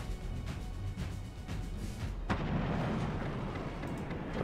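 Artillery bombardment in the game Forts, with deep rumbling booms and a sharp blast partway through followed by a sustained roar, dense and continuous, no voices.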